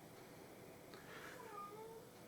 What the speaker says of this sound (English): my cat's running around moaning because she thinks I'm talking to someone else